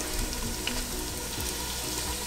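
Finely chopped onions sauté in hot oil for chicken dum biryani, producing a continuous loud, close sizzle with no voices over it.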